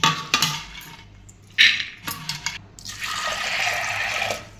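Water is poured into a pressure cooker holding soaked black peas, with bursts of splashing and trickling, a few clanks, and then a steadier pour near the end.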